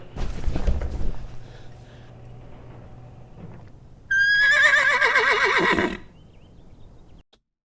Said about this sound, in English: Did you take a minute and 40 seconds to set up that horse pun, Daniel?